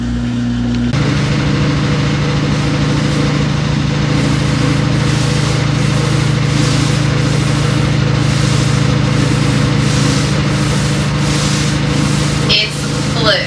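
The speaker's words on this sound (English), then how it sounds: "Sorry for the noise of the washing machine." A washing machine runs in a laundry room with a loud steady hum and rhythmic rubbing swish, close and continuous, briefly changing tone near the end.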